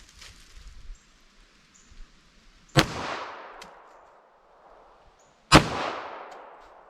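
Two sharp, loud .45 ACP pistol shots with Blazer full metal jacket ammunition ring out outdoors a few seconds apart, each cracking hard and then fading into a long echoing tail.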